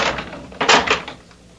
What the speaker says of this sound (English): Bolt the door.